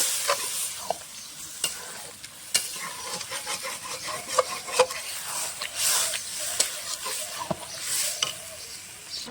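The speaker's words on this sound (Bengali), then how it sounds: "দিয়ে দেবো ছোলার ডাল সিদ্ধ করা" Boiled chana dal stirred into a fried spice paste in a pan, a close, steady sizzle with repeated scraping and clicking of the spoon against the pan, heard alone.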